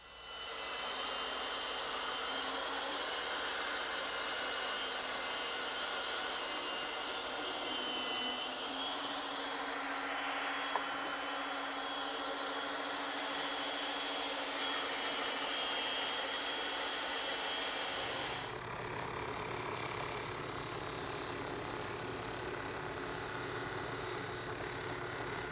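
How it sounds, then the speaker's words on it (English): A bandsaw and a drum sander shape the wooden head of a rocking horse, making a long, steady machine drone nearby whose tone shifts partway through as one tool gives way to the other. "now it's back to the bandsaw and the drum sander"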